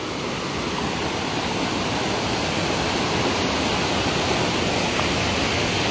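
A waterfall pours down beside a forest stream, a steady, loud, unbroken rush of falling water that fills the whole stretch without any talking.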